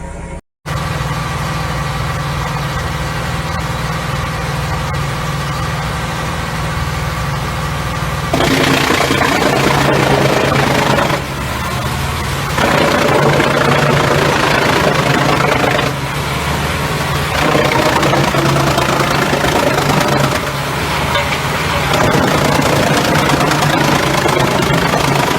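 A Deutz-powered wood chipper and stump grinder runs in a forest, a steady mechanical engine drone that shifts to a louder, rougher roar with repeated surges as it works.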